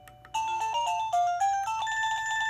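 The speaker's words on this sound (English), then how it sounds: "Give it a ring, and you'll see that it is really loud." A wireless doorbell plays a loud melodic chime with a quick run of bright tones in sequence. The melody sounds close and clear against a quiet room, with no talking.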